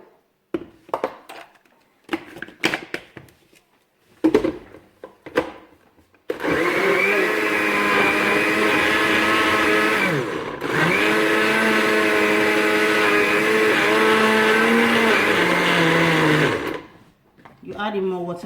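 A kitchen blender whirs steadily at full power for about ten seconds as it purées vegetables with water, with a brief dip in pitch midway; a person speaks before it starts.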